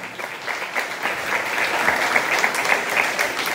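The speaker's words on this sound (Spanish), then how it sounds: "Que se escuchen los aplausos fuertes y cariñosos." Warm applause at a quinceañera celebration: a room full of guests clapping steadily and fairly loudly, a dense, even patter that holds for the whole stretch.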